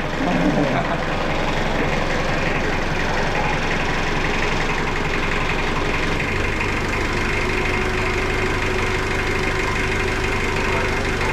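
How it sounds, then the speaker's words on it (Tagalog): A car engine idles steadily up close, a continuous low rumble with slight knocking texture and no talking. "Ganda pa ng makina."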